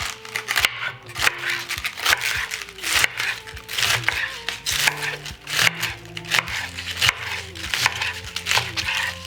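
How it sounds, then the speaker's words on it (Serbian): A knife chops through cabbage on a board in a run of crisp, irregular cuts that crunch close by, with a voice speaking between the strokes. "I zatim ću iseckati kupus."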